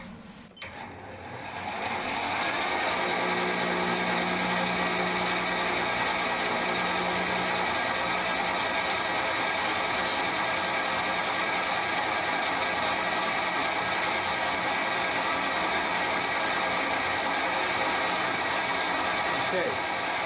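Metal lathe starting up and running steadily while a left-hand tool cuts a fuel mixer part for a hit-and-miss engine, a constant whirring mechanical hum with a brief cutting whine early on.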